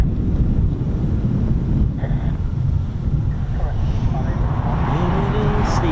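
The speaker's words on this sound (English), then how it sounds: "See the wind there, it's blowing quite strongly" Strong gusting wind at an RAF airfield roars and buffets the microphone in a constant heavy rumble, loud and close throughout.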